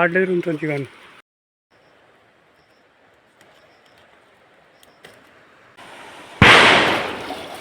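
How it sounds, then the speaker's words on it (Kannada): A short burst of speech, then a quiet lull with faint scattered pops, ending in a loud, sharp crackling burst like firecrackers going off nearby. "ಯಾರು ಪಟಾಕಿ ಹೊಡೆದ್ರು"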